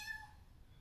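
A cat gives one short, faint meow, a single brief call heard close but quiet against a still background.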